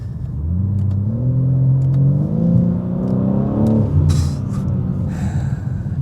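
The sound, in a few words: BMW M car engine while driving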